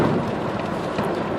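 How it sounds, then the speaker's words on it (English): Steady rain sounds as a dense, loud hiss close by, continuous and even throughout with no voices over it. "It's raining."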